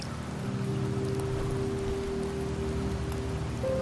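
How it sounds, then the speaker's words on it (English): Steady rain falls in Septimont within the video game Wuthering Waves, a dense continuous patter and hiss under a low ambient hum, with no voices. "The rains in Septimont never seem eager to leave this season."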